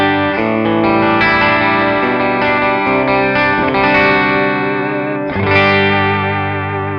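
An electric guitar plays through a Tech 21 Richie Kotzen RK5 Fly Rig into the front end of a George Evans 30-watt amplifier, ringing sustained chords with a clean, shimmering tone and a fresh strum near the end, heard alone.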